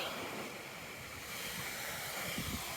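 Spade Creek flowing along a hiking trail, a steady, faint rushing wash of water heard from nearby, alone without talk.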